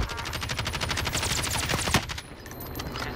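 Rapid automatic gunfire in an online shooter video game match, dense continuous bursts of shots rattling close and loud, tapering off near the end with no voices over it.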